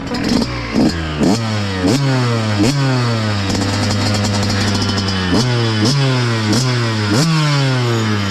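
Yamaha YZ 125 two-stroke motocross bike revving hard on a small dirt track, its loud buzzing engine climbing and dropping in pitch over and over with quick gear changes, close and steady, with no talk.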